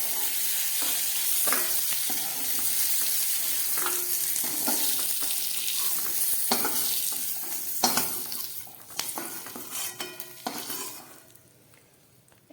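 Food fries in hot oil in a pan while being stirred, a continuous sizzle with repeated scraping strokes of a spatula that thin out and quiet toward the end.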